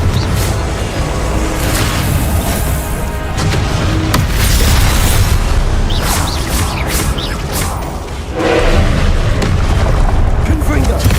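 Hogwarts Legacy fire-blast spells go off in a steady run of booming explosions and whooshes, loud and continuous through busy video game combat, with voices talking over the din.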